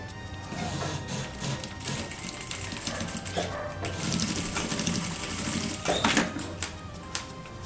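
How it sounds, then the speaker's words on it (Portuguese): Sewing machine stitching a seam on a homemade fabric pencil case, a steady close rattling whir of needle strokes running continuously, with a few brief handling bumps toward the end and no talking. "E passo uma costura."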